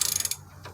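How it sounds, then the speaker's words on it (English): A Craftsman ratchet wrench clicks in a fast burst of sharp metallic ticks, close and distinct, then falls quiet during a Nissan repair. "for all you ladies, this is the ratchet. Get a Craftsman."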